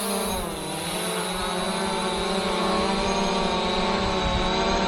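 An SG906 MAX / SJRC F114K camera drone takes off and flies close by, its motors giving a loud, steady high-pitched whine with layered tonal hum that holds throughout without a break.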